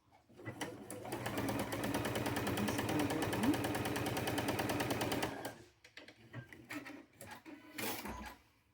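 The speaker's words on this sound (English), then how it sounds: "I'm gonna sew our diagonal." Up close, a sewing machine runs fast and steadily for about five seconds, stitching a diagonal seam across quilt fabric pieces. It stops, and a few quiet handling clicks and rustles follow.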